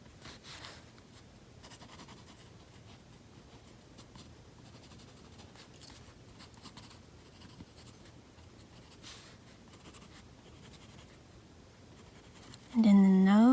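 Pencil drawing a cat's eyes on paper: faint, close scratchy strokes come in short bursts and continue through most of the stretch, and a voice talks at the end.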